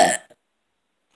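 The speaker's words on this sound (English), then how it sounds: "Sounded like a burp." A single short burp opens the clip, followed by a tiny after-sound and then silence.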